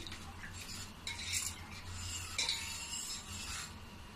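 A spoon stirs asafoetida dissolved in water for kanji vada, producing faint scraping and swishing against the bowl, quiet and close with no talking.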